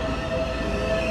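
A train in Portugal at a station, heard as a steady, fairly close rumble with a faint sustained tonal whine running through the short span, and no talking over it.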